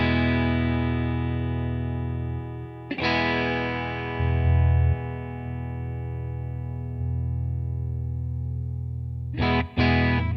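Distorted electric guitar runs through a Two Notes Torpedo C.A.B. M with its EQ engaged, loud sustained chords ringing out and decaying, struck again a few times with short palm-muted hits.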